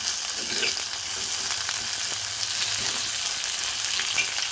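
Onions sautéing in a small amount of oil for tomato soup, a steady close sizzle of frying with faint occasional stirring scrapes, no talking.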